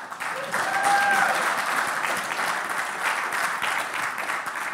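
An audience applauds in a continuous wash of clapping, steady and fairly close, with a short whistle early on.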